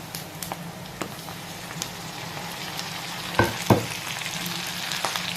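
Alamang shrimp paste fries with pork, chili and pepper in a pan, giving a steady close sizzle, with a couple of sharp spattering pops and light stirring scrapes.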